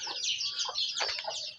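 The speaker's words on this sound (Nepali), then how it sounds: "अब यहाँ कुखुरा पक्रिदिनु पर्ने रे अब" Chickens cluck and call close by in a short burst of overlapping bird calls, with no talking.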